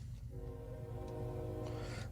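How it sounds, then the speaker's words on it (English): A train rumbles past with a sustained horn blast, its steady tonal chord holding over low rolling rail noise for a couple of seconds, moderately loud and without talk. "That is a train."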